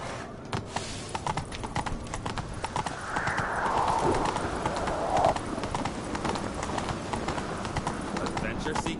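Horse hooves clip-clopping in The Witcher 3 video game, a steady walking rhythm that runs under continuous talking, with a brief whinny-like sound in the middle.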